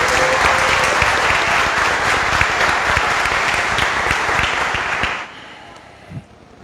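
Loud, sustained clapping from an audience at a solemn session of a municipal council chamber, a dense even roar of hands that fades out quickly near the end.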